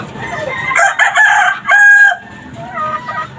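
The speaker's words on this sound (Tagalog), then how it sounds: "Gaganda ng mga manok ni Sir Eli ba?" A Super Brown Red gamefowl rooster crows loudly and close by at a game farm, with other chickens calling and clucking around it in overlapping bursts.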